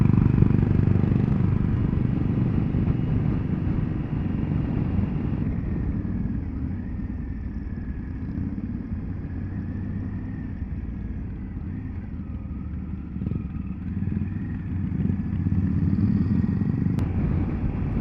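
Vintage motorcycles on a club run, including early flat-tank bikes, rumble past at a steady distance, a continuous low engine drone that swells at the start and end with light mechanical clatter.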